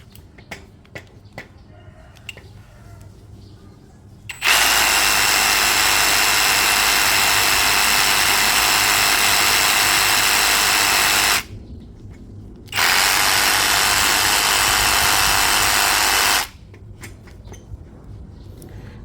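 A Dongcheng DCJF22 brushless battery reciprocating saw runs at full speed in two loud, steady bursts of several seconds each, separated by a short silence, with faint clicks before the first run.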